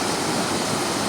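A slow river flows along its bank near Bhalam, Pokhara, as a steady, close, even rush of water with no voices.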